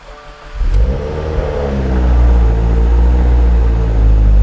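Twincharged Subaru WRX engine cranks briefly and catches, then settles into a loud, steady rumbling run with a slight rise in revs; close by, no talk.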